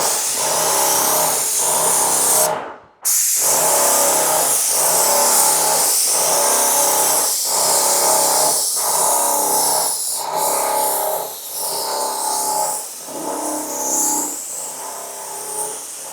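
A Wagner Control 150 M airless paint sprayer runs with a steady loud motor drone, punctuated by a regular pumping pulse roughly every second and a brief break early on, with no talking.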